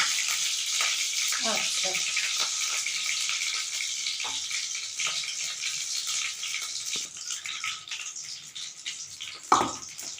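Panch phoron and bay leaves crackle in hot oil, a continuous sizzle with scattered pops and a sharp clatter near the end, while voices murmur faintly in the background.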